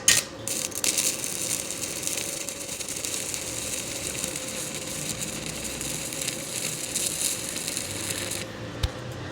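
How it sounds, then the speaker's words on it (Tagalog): Steady crackling, buzzing arc from a small Kusama Japan welder running a thin welding rod at 40 amperes, loud and close and continuing without a break, with no talk. "umpisa natin sa manipis na welding rod. Pwede lagay natin sa 40 amperes"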